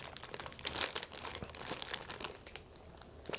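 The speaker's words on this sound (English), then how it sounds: "if I can get the plastic off this" Plastic wrapping crinkles and tears as it is peeled off an EVGA 850GQ power supply, a close, continuous run of crackling with sharper rips scattered through it.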